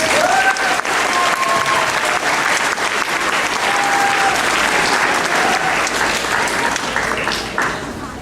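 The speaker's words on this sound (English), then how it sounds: "All right, round of applause." Loud, sustained applause from an audience at a 2011 school awards ceremony, a dense steady roar of clapping that fades slightly at the end.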